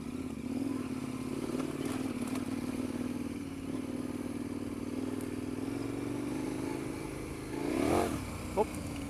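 KTM 1090 Adventure R adventure motorcycle engine running steadily while riding off-road, a sustained mid-pitched drone with a brief rise in revs near the end and a small knock or clatter just after.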